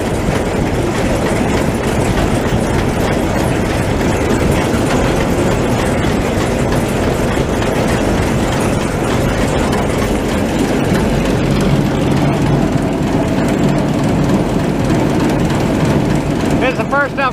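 A 525 machine fitted with a new chain runs steadily, a loud continuous mechanical rumble and clatter from close by, with talk in the background.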